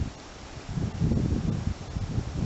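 Wind gusts outdoors on a morning with no fog, a low rumbling buffet against the microphone with rustling, building slightly louder partway through, no voices.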